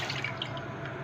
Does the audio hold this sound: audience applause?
no